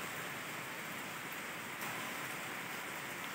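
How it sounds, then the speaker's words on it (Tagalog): Light rain falls steadily outdoors near a garden, a soft even hiss of drops with no voices and little change from start to end. "So mahina lang pero at least may ulan."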